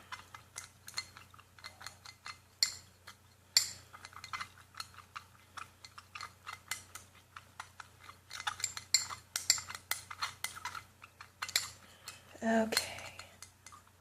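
A glass stirring rod clinks and scrapes against lab glassware while a solution is mixed, with irregular bursts of rapid tinkling taps over a faint steady hum, and a brief spoken word.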